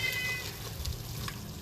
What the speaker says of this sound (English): That's my cat, if you can hear in the background.